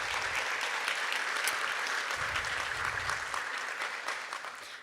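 Audience applause at a Fullerton College fall convocation: sustained, even clapping from a large crowd that tapers slightly toward the end.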